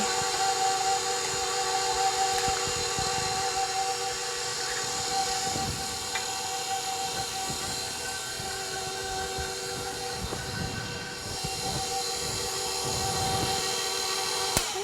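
An electric mixer runs at lowered speed beating eggs into cream puff choux dough, a continuous steady whirring motor drone with faint bowl scraping and no talking.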